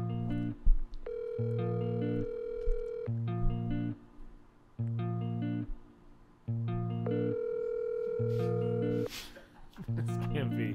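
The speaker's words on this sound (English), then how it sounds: "We're calling him on Skype. It does sound like Skype." A Skype call ringtone rings repeatedly in a steady rhythm of bursts and pauses, clear and prominent, with a voice briefly audible partway through.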